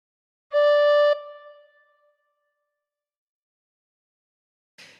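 A single clear tin whistle note, holes 1 to 5 covered and blown gently, sounds alone, held for about half a second and then fading, followed by a brief faint noise.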